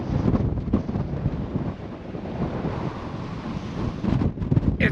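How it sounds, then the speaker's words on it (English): Strong gusting wind at a desert campsite near Hanksville, Utah, roaring and buffeting the microphone in a continuous low rumble that swells and eases, with no voices. "It's windy."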